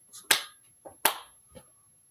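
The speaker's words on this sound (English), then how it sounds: "Slow clap." Two sharp, deliberate hand claps spaced nearly a second apart, each followed by a softer echo-like tap, in a quiet room with nothing else heard.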